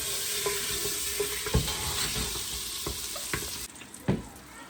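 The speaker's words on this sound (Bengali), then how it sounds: "এই বাটারের মধ্যে একটু মাংসটা ভাজবো আর কি" Beef sizzling as it fries in butter in a pan, a steady crackle with occasional stirring scrapes and clinks, close and fairly loud throughout with no talk.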